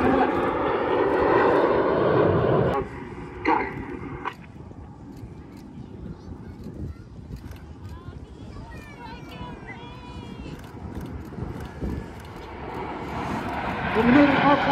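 Red Arrows aerobatic display jets accelerating to around 600 km/h at Airshow Atlantic, a loud sustained engine roar that dips and swells with whining tones, under a commentator's voice.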